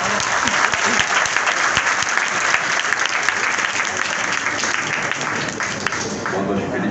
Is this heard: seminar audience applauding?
yes